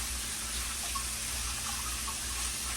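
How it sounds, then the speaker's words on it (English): Hands being washed under a running kitchen tap, a steady hiss of water splashing into a sink, close and continuous. "And wash your hands."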